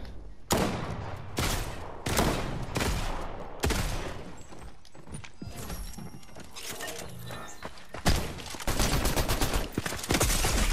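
Rapid bursts of video game gunfire, loud and close, with sharp volleys and machine-gun rattles broken by brief pauses, plus mechanical clatter in between; no talk.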